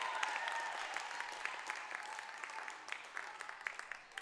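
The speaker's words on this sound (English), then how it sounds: "based on the applause here" Spectators applaud at a Brookline at Weymouth girls' volleyball match, a steady, fairly faint spread of many hands clapping from across the gym that continues throughout with slight swells.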